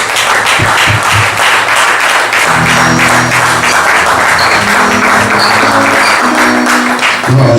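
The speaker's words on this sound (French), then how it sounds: "Quand il va s'approcher, nous allons applaudir pour notre Dieu." A church congregation claps steadily and loudly throughout, a dense continuous applause filling the room, with a low musical hum underneath partway through.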